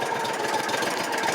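A 2014 Landmaster LM650 utility vehicle engine running at a steady idle, close and loud with a continuous even rumble.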